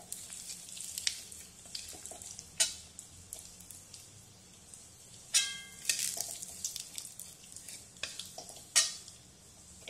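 Garlic and coconut sautéing in hot oil in a pan, with a soft steady sizzle and periodic clinks and scrapes of a spoon stirring, close and fairly quiet.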